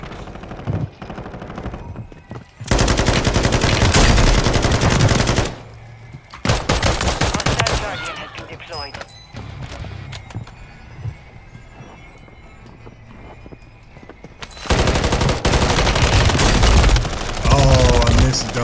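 Heavy, sustained bursts of automatic gunfire from Warzone Resurgence roar in long loud stretches, broken by a quieter middle section of scattered shots and clatter before the firing surges again.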